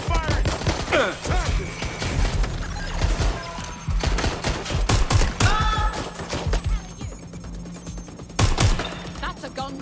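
Gunfire in the open-world game Watch Dogs Legion, set in London, dense rapid volleys of shots cracking over busy game sound and music, with a voice speaking briefly in the mix.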